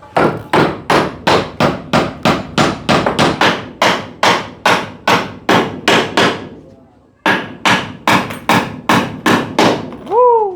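Steady hammer blows ring out in quick, even succession, a brief pause near the end, then the pounding resumes, loud and close.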